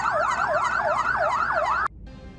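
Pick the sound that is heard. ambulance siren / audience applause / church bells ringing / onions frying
ambulance siren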